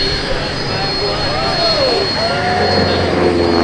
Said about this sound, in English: 2 taxis down is Thom Richard in the T6 Texan